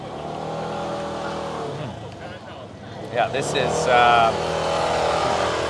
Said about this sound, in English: There's scooters driving by